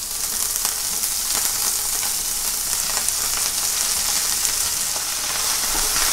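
Chopped amaranth greens (Amaranthus viridis) hit hot oil with onions and spices already softened in the pan, sizzling loudly and steadily in a continuous close frying hiss with faint stirring.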